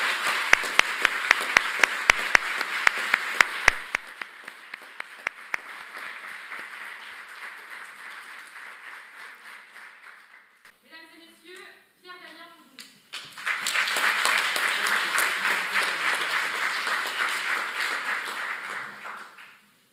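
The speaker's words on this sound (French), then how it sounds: "un tonnerre d'applaudissements pour Pierre-Damien Fougou." Audience applause at a mock trial event, opening with sharp individual claps, then sustained clapping that dips briefly under a short spoken passage before swelling loudly again until the end.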